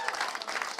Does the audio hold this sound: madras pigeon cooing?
no